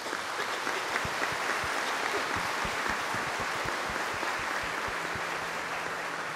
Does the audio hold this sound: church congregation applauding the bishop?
yes